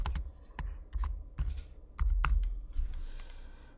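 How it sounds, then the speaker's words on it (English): Typing on a computer keyboard, close and fairly quiet, with irregular clusters of key clicks and a few louder taps over nearly four seconds, no voices. "I'm going to type in, you know, test page."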